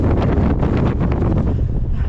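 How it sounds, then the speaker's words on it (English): Strong, gusty wind on the hilltop of High Rigg in the Lake District, near freezing, roars and buffets the microphone continuously, loud and close, with no voices. "It's definitely windy up here."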